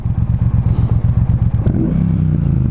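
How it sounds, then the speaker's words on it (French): A Triumph Bonneville Speedmaster motorcycle engine idles close by with a loud, lumpy throbbing rhythm, then settles into a smoother steady hum toward the end. "Là, je sais pas si on entend le moteur là."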